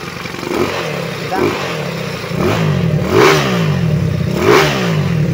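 A 199cc aftermarket-built motorcycle engine with a sticking carburetor revs up close by in repeated bursts, about four rising throttle blips over a steady idle with rattling clatter.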